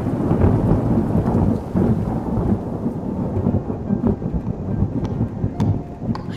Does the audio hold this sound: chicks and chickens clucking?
no